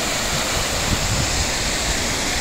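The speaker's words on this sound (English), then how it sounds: "we are here at the Goomoolahra waterfall, which is about a 80 metre drop off" Goomoolahra waterfall in Springbrook National Park, Australia, pours down an 80-metre drop, heard as a steady, dense rushing roar that stays even throughout with no voices.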